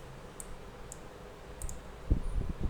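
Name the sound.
computer mouse clicking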